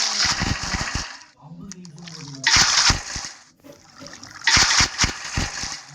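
Splashing water from blocks placed to fill a swimming pool in the building game Lokicraft, in three separate loud sloshing bursts with quiet gaps between them.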